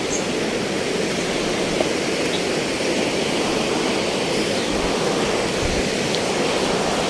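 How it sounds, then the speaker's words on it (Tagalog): Continuous broadband rushing of a large river flowing, steady and loud throughout with no pauses or voices. "Oh, ayan yung ilog mga katropa."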